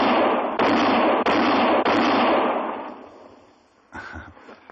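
A quick-draw gunfight in a radio drama: three sharp gunshots fire in rapid succession, each loud crack cutting in and ringing out into a decaying echo, followed by a fainter thump and murmuring sound.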